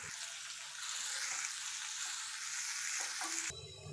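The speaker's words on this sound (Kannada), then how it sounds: "ಸಾಸಿವೆ ಹಾಕ್ಕೊಳ್ತಾ ಇದ್ದೀನಿ. ಅರ್ಧ ಸ್ಪೂನ್ ಜೀರಿಗೆ, ಈರುಳ್ಳಿ, ಒಣಮೆಣಸಿನ್ಕಾಯಿ, ಕರಿಬೇವು ಇಷ್ಟನ್ನು ಫ್ರೈ ಮಾಡ್ಕೊಳ್ತೀನಿ." Mustard seeds, cumin, onion, dried chilli and curry leaves frying in hot oil, a steady dense sizzle with light stirring, close and continuous for most of the span, then cutting off near the end.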